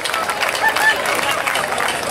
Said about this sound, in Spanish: Un aplauso a los bailadores que están ahí en Fajau.